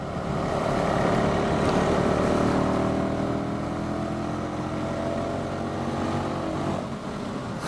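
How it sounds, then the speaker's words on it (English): A 2005 Buell Blast motorcycle from Harley-Davidson is ridden, its engine giving a loud, continuous drone with wind rush and slight rises and falls in revs. "I actually really like the sound of this bike."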